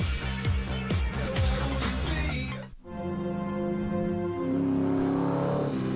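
A Pontiac G5 engine revs up through rising gear pulls, drops off sharply, then climbs again into a sustained loud roar.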